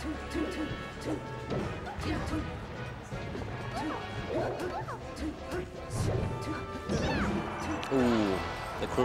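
A down smash attack lands in Super Smash Bros. Melee, a punchy impact among rapid game hits and crashes, under fast, excited doubles-match commentary and crowd noise.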